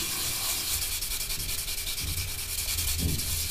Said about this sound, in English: Then we go in with our other finer sanding sponge, just like that.